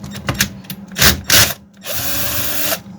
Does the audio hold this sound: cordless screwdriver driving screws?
yes